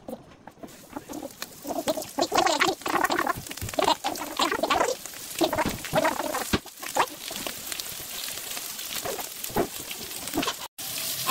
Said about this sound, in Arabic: ادي يا جماعه شكل الفراخ وهي بتتحمر بعد ما اتبلت